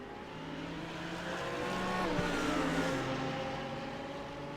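GT3 race cars on the circuit at Circuit Gilles Villeneuve, steady engine drone with shifting tones swelling slightly mid-clip, fairly faint and distant.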